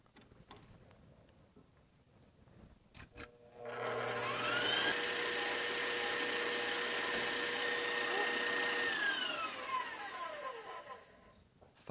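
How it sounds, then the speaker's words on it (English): Electric mixer whipping egg yolks, starting with a few clicks and then a loud, steady whine that holds for several seconds, its pitch rising and falling before winding down. "you accelerate slowly the speed of the mixing until it turns really white."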